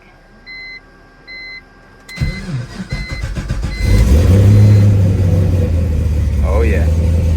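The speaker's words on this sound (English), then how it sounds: "All right, one last cold startup." A BMW M3 with a swapped LS3 V8 cold-starts after a few electronic chimes, the starter whirring before the engine catches into a loud, deep, steady idle rumble close by.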